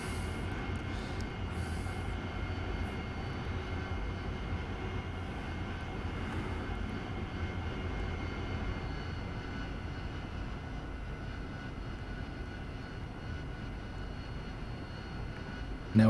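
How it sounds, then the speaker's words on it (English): Simulated AV-8B Harrier jet engine in the DCS flight simulator, a steady, loud broadband roar with a low rumble and whine held nearly constant throughout, rising thrust before taxiing onto the runway, no voices. "Now we're just going to run the thrust up a little bit and we'll move out onto the runway."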